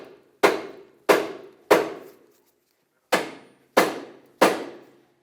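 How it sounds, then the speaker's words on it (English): Hammer striking the steel steering knuckle of a 2008-2012 Honda Accord, six sharp metallic blows, three evenly spaced, a pause, then three more, close and loud with brief ringing decay. "now take a hammer to the side of the knuckle"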